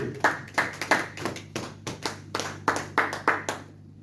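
A church congregation claps in uneven, close bursts for about three and a half seconds, sharp hand claps overlapping loosely without settling into a steady beat, then fading out.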